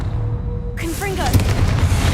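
A Confringo spell explosion from the video game Hogwarts Legacy bursts out as a sudden loud boom after a quiet moment. A voice speaks over the blast as it fades into a rumbling tail.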